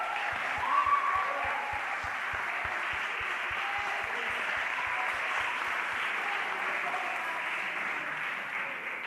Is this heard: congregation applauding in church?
yes